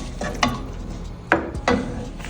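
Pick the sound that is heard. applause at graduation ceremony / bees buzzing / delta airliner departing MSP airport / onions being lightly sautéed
onions being lightly sautéed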